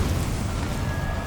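A fire spell blast from Hogwarts Legacy, a steady roaring, crackling burst of flame that holds loud and even for its whole length, with a deep rumble underneath.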